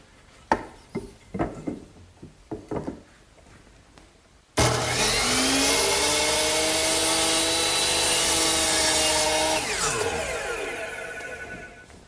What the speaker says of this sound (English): So I'm going to use my power miter box to make that cut.